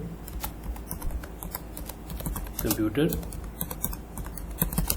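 Fast, steady clicking of a computer keyboard as a short phrase is typed, with a voice speaking over the keystrokes.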